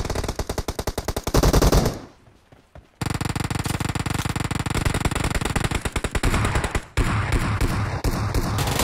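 Rapid automatic gunfire in the video game PUBG, long loud close bursts of fast shots broken by a brief pause, then continuing steadily with distant shots mixed in, no talk over it.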